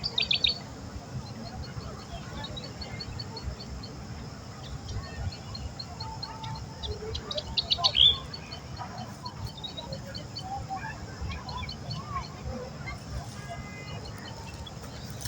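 Outdoor birdsong: scattered high chirps and tweets, a denser flurry around the middle, set over a constant low rumbling background, mostly faint to moderate with one sharper call.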